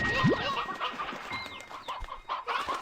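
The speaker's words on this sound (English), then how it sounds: "Grab some hens." Hens cluck in the video game Slime Rancher 2, with a busy overlapping chorus of short clucks and chirps against background game ambience, close and moderately loud.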